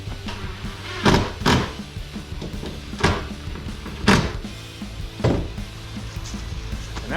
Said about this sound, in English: The door opens and shuts now. I can lock that one in.